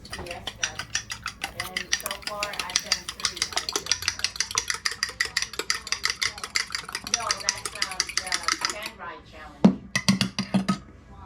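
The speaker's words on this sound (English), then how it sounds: "just scrambling the eggs" Eggs are scrambled in a frying pan by quick rhythmic scraping and tapping of a utensil against the pan, a fast steady clatter that runs for about nine seconds before fading, with a voice talking over it.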